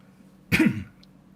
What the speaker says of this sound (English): Everybody's coughing.